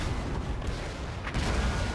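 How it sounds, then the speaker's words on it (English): Cannon fire rumbles through a Warhammer battle between Vampire and Empire armies, a dense layer of low booms and distant blasts rolling continuously with no clear gaps. "All the beautiful cannons."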